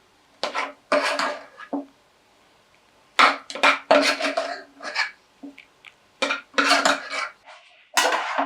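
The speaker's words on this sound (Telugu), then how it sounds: "ఇప్పుడు ఈ పప్పు కూడా వేసేసుకుందాం" Lentils go into a cooking pan with raw banana pieces for a South Indian dish, followed by repeated close, bright clanks and scrapes of a metal spoon against the pan in short bursts separated by quiet gaps.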